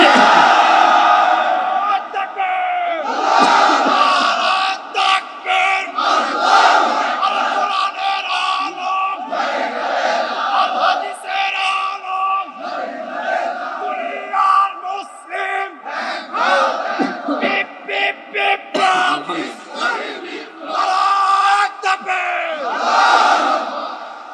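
A large crowd at an outdoor Islamic sermon roars the takbir in answer, repeated loud chanted shouts rising and falling in waves across the whole stretch, with a preacher's amplified voice between them.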